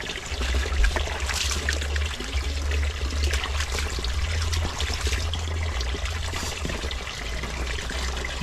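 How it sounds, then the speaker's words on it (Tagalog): Water runs steadily from a tap or outdoor faucet at a laundry spot, a continuous trickling stream with low rumble, close and constant throughout with no voices. "Yan, running water siya, oh."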